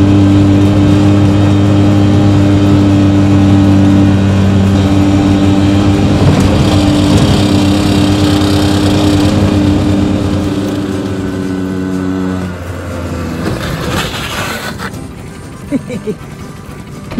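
A Piaggio tuk-tuk fitted with a motorcycle engine drives along, its steady mid-pitched engine drone holding for about twelve seconds, then easing off and fading toward the end.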